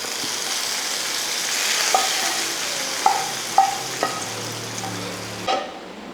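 Hot tempering poured into a Kerala-style mackerel (ayala) curry, then stirred: a steady sizzle with a few sharp clinks and scrapes of a spoon against the pot, close and moderately loud, with no voices.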